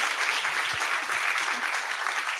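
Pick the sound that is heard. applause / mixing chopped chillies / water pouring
applause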